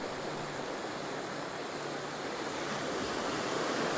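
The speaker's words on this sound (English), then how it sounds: "Actually got some good waves here today." Ocean waves rolling in at Point Vernon, Queensland, a steady broadband wash of surf and whitewash that swells slightly louder toward the end, close by and alone without talk.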